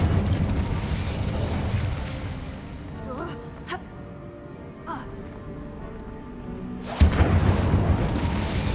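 Incendio fire spell being cast in Hogwarts Legacy, a dense whooshing burst that starts loud, dies down to a low rumble with a couple of sharp pops, then flares up again in a sudden roaring blast near the end.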